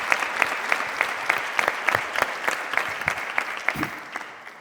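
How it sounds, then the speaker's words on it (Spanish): An audience at a debate gathering claps in a modest, steady round of applause with distinct individual claps, tapering off toward the end. "Un aplauso, ¿no?"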